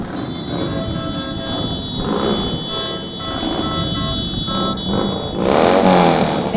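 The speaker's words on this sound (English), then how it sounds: "if you can hear those motorcycles in the background there," Motorcycles of the American Legion Riders rumble and rev in a continuous stream in a Memorial Day parade in Royal Oak, Michigan, fairly close, with a buzzing tonal whine above, swelling louder near the end.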